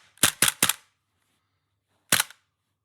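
A Tokyo Marui Sig Sauer P226 airsoft gas blowback pistol fires three quick, sharp cracks in a row, then a single shot after a short silence. The shots are close and crisp against a quiet background.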